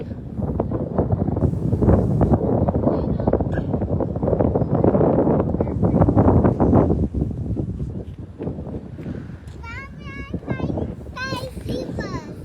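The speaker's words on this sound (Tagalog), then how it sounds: "Lakas ng hangin." Strong wind at Corniche Beach buffets the microphone in a constant loud roar, with a voice and other voices breaking through toward the end.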